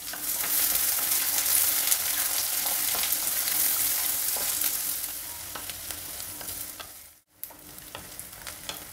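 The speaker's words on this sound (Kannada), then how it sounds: "ಈರುಳ್ಳಿ ಬೆಳ್ಳುಳ್ಳಿ ಎಲ್ಲ ಚೆನ್ನಾಗಿ ಫ್ರೈ ಆಗಿದೆ" Chopped onion and garlic fry in a pan with a bright, continuous sizzle and stirring scrapes that fade toward the end, then cut out briefly before resuming faintly, no voices present.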